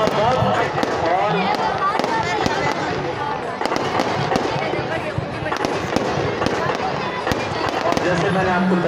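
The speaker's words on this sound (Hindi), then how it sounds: "आतिशबाजी भी शुरू हो चुकी है, ये मैदान पर आसमान पर आतिशबाजी" Fireworks crackle and pop continuously over a crowded open ground at a Ravan Dahan festival in Jodhpur, dense bursts layered with someone talking throughout and a busy crowd hubbub underneath.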